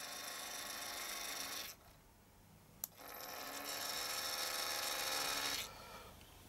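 Model railway turnout switch motor on an NCE Switch 8 setup whirring in two buzzing runs of a couple of seconds each, separated by a quiet pause and a single click, faint and close.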